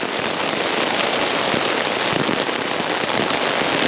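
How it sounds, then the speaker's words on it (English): Heavy rain drums steadily on a backpacking tent during a wild camp in Northumberland, a dense, close, unbroken patter of drops with no pauses. "Well, we've got proper rain here again now."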